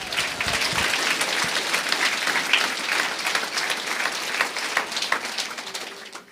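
At a church service, a congregation gives loud, sustained applause to Christ Jesus. Many hands clap in a thick, continuous roar that stays even throughout and tapers off at the close.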